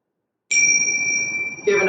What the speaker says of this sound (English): Close the class with 3 bells.